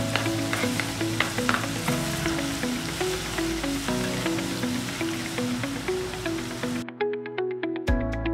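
Ginger-garlic paste fries in hot oil with a steady crackling sizzle under melodic background music, and the sizzle drops away near the end while the music continues.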